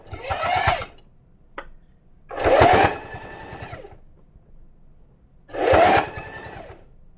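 A sewing machine stitches stretched cuffs onto a hoodie in three loud whirring bursts, with quiet pauses between them and no talking.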